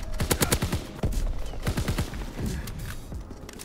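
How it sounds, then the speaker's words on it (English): Rapid automatic gunfire from a picked-up weapon in Call of Duty: WWII, with loud close bursts of shots in quick succession that thin out toward the end. "It feels so good to shoot this gun."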